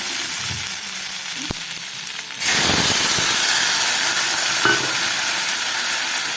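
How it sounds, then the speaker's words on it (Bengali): Water poured into a pan of snails cooking in a spicy masala, a sudden loud burst of sizzling and hissing steam that settles into a steady fry. "এবার বন্ধুরা এতে আমি জল দিয়ে দেবো"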